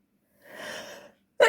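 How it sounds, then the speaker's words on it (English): One person sneezes indoors: a drawn-in breath followed by a short, sharp burst, close and fairly loud. "I'm not sick. I don't know, I'm sneezing."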